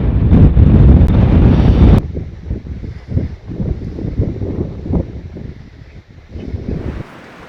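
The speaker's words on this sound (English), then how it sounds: "All of a sudden it seems to have got very windy." Strong wind buffets the microphone outdoors, with a loud roaring blast for the first two seconds before easing into gusty, uneven rumbling that rises and falls for the rest of the clip.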